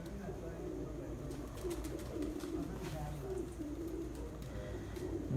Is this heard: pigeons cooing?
yes